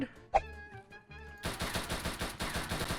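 Rapid gunfire in the Minecraft video game: a dense, steady stream of close, loud shots after a short stretch of tonal game sounds.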